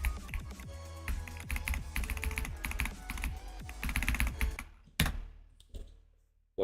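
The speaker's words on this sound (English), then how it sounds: "if I turn the RGB off on this thing, it looks exactly like a normal keyboard" Rapid typing on an RGB computer keyboard, a dense run of close, crisp key clacks that stops abruptly, followed by a few isolated heavier taps and near silence.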